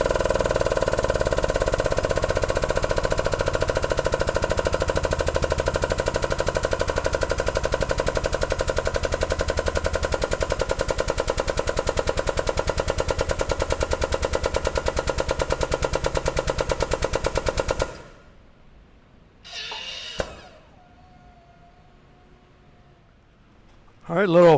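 A DIY bending brake bends a 1/2 by 2 inch flat steel bar with a loud, steady, rapidly rattling mechanical drone that runs for about eighteen seconds, then cuts off, leaving near silence and a couple of brief knocks.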